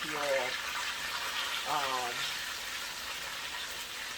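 Steady sizzling and crackling of fish frying in hot oil on a stove, with faint voice-like tones drifting in and out beneath it.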